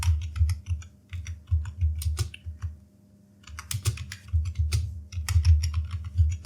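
Keystrokes clatter on a computer keyboard as a short note is typed into a web browser, rapid irregular taps in bursts with a brief pause midway, close and moderately loud over a low steady hum.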